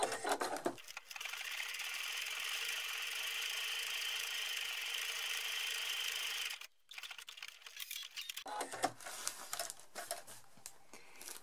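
A sewing machine runs a decorative stitch down the centre line of patchwork made from fabric scraps. It makes a steady whirring hum for several seconds, pauses briefly, then resumes with choppier bursts.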